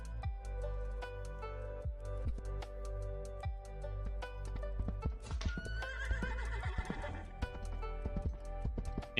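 Video game horse neighs loudly amid steady clip-clopping hooves and ambient game sound, the whinny rising clearly over the rhythmic hoofbeats midway through.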